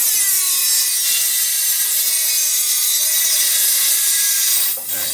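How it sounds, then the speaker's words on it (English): A tool cuts through a small piece of eighth-inch-thick sheet metal for a rake-handle exhaust, giving a steady, bright, high-pitched whine with faint ringing tones that stops briefly near the end. "I cut a little piece of sheet metal here."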